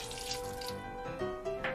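Water runs from a tap into a Christmas recipe mixture of rum and cherry brandy, giving a steady trickle with light drips and splashes under a faint background hum.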